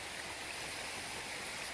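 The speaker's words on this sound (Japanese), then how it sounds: "隣に流れている白滝ですね。" The Shirataki waterfall beside a shrine on the lower slopes of Mount Tsukuba rushes steadily, a constant broadband hiss of falling water close by with no breaks or voices.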